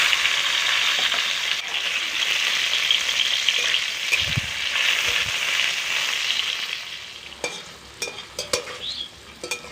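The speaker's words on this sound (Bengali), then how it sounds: "এবার এই সামান্য তেলের মধ্যেই একটা টমেটো খুব সুন্দর করে ভেজে তুলে নেব" A tomato sizzles and crackles in a small amount of hot oil in a pan, a steady close frying hiss broken by a few louder spits and stirring scrapes toward the end.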